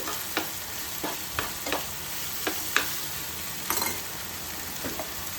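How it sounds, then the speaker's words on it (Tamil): Onions and green chillies are sautéed in a pan for Jaffna-style chicken, with a constant sizzle and a handful of spaced spatula scrapes and taps against the pan, close and moderately loud, with no talking. "அந்த வெங்காயம் பச்சை மிளகாய் வாடெல்லாம் போகட்டும், அது வரைக்கும் நல்லா வதக்கிக்கோங்க"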